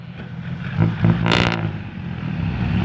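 A Rocky off-road vehicle's engine rumbles as it struggles through sticky clay mud, rising into a short, loud rev midway before settling back to a steady low drone.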